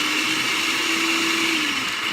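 A kitchen blender whirs at high speed through salsa with cilantro and onion, a loud steady motor whine whose pitch dips slightly near the end.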